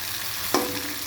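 Water poured into a pan of sizzling spice paste for a fish curry with potatoes and taro: steady frying hiss broken by one sharp splash and burst of crackling, then the sizzle continues.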